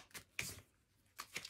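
Tarot cards are shuffled and drawn in a few short, quiet bursts of papery riffling separated by brief pauses, close and soft.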